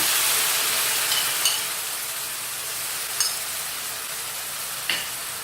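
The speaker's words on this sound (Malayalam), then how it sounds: "ഒന്ന് എണ്ണ തെളിയുന്നവരെ ഒന്ന് മൂത്ത് വരട്ടെ" Masala of chilli powder, asafoetida and cardamom powder frying in oil for a spinach and potato gravy: a steady, fairly soft sizzle and hiss broken by a few sharp spatters or stirring clinks, with no voices.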